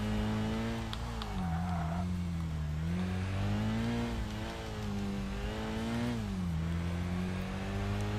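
An MR2 engine in Tokyo Xtreme Racer Drift 2 drones loudly and continuously on a gravel mountain section, its pitch repeatedly dipping and rising with throttle changes, with a brief tire squeal early on.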